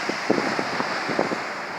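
Steady wind roars over rough sea at Piran in early February, with a constant broad rush of waves and surf.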